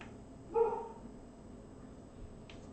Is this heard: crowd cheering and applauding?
no